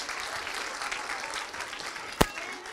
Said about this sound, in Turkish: Kızımıza bir alkış rica edebilir miyim?